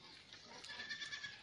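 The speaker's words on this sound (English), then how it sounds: "I've just seen the goats and sheep are coming in" Goats and sheep come in at a dry village homestead in Taita Taveta County, Kenya; faint, distant bleats sit within a broad hissy outdoor background, with no talk.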